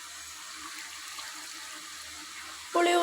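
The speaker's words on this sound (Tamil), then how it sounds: "தேவையான அளவு தண்ணி ஊற்றிக்கலாம்" Water poured into a pot of sambar, heard as a steady broadband rush of pouring and splashing. The flow stays even throughout, then a sharper, louder burst comes near the end.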